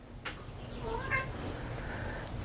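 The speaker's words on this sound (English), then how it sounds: "my cat just came in" A house cat meows once, drawn out and close, just after a short tap. The room stays quiet around the meow.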